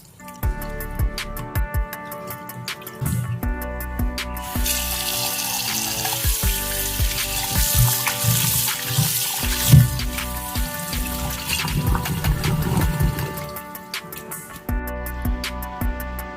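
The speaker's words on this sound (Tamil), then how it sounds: "ஒரு தடவைக்கு 3 தடவை நல்லா தண்ணி ஊற்றி நல்லா சிக்கன் நல்லா வாஷ் பண்ணி எடுத்தாச்சுங்க." Raw chicken being rinsed under running water in a kitchen sink for a curry, with steady splashing and trickling that continues for most of the stretch, alone without talk.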